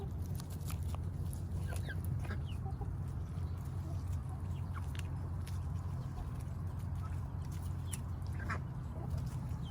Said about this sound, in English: in the foreground you can see John Cena, my beloved Brahma hen